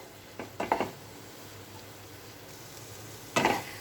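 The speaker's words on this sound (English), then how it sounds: "I'm just going to saute it again, just for a minute or so" Sautéing flour-coated (maida) vegetables in a pan: a few short scraping, sizzling stir strokes near the start and one more near the end, over a quiet background.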